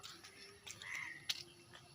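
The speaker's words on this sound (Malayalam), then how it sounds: "ഇവിടെ കിളികളുടെ സൗണ്ട് ഉണ്ട് കേട്ടോ." A faint outdoor scene with a brief whistled bird call and a few soft chirps against quiet background hiss.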